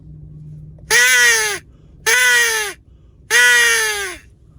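Outdoors in Arizona desert country, a crow gives three loud, harsh caws, each about half a second long, evenly spaced and close by.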